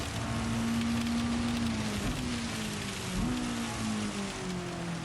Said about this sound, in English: Yeah, now it's raining.